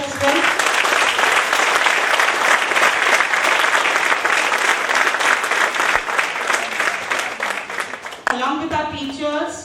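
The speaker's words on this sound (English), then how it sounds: "a huge round of applause for our students as well" Loud, sustained applause from a school audience honoring students rolls on for several seconds as a thick wall of clapping, then fades as a voice begins speaking at the end.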